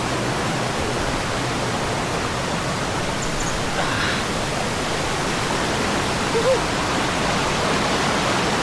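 Alaxan Falls pours in a steady, loud, broadband roar of rushing water heard close by, continuous and unbroken for the whole stretch.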